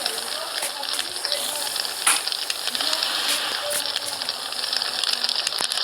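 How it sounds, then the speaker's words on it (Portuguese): A house burns after a bomb in a Minecraft-style block-building game, a steady crackling, hissing fire roar with scattered pops and sharper snaps throughout. "A casa tá pegando fogo."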